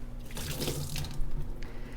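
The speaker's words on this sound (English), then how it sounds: "make sure that you just get rid of the soaking water" Cashew soaking water pours out into a kitchen sink, a close, splashing gush of running liquid with gurgling over a short stretch.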